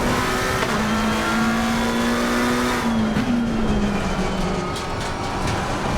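McLaren 720S GT3 Evo racing in the ACC video game: a loud, steady engine drone whose pitch rises and then falls as the car brakes and downshifts, with no talk over it.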